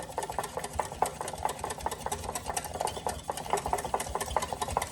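Rapid, steady whisking by hand in a bowl for a dessert, working toward a foam, with a busy rhythmic clatter of wire strokes that carries on without a break.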